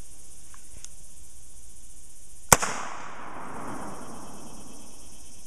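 A single sharp crack of a subsonic 300 AAC Blackout rifle firing a 225-grain handload rings out sharply, followed by a brief decaying echo, with faint insect chirping before and after.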